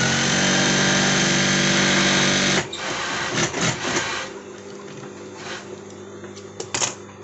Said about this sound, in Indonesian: Kita jahit besarannya 1 cm.